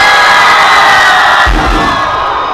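A large, loud concert or event crowd cheers, shouts and whoops to win a shirt, a continuous roar that swells around the middle with deeper yells.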